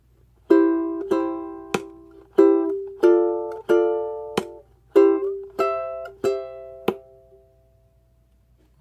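Ukulele played fingerstyle, the opening section of a song, slow separate plucked notes and chords about one per second, close and clean, the last note left ringing out alone.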